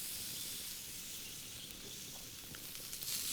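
Asparagus charring on a grill over an open flame, giving a steady, faint broadband hiss and sizzle with small crackles, close but quiet and unbroken, no talking.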